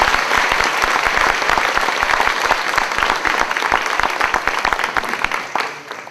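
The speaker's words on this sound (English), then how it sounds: "you may applaud for the children coming in so nicely" An audience at North Madison Elementary's fifth-grade promotion ceremony claps steadily for children walking in, a dense, even applause that carries on throughout and tapers slightly near the end.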